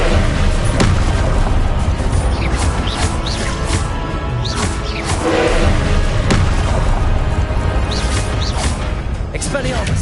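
Confringo explosive spell blasts in Hogwarts Legacy, repeated sharp booms and crashes every second or so during spell-casting combat, loud and close, with spell incantations shouted over them.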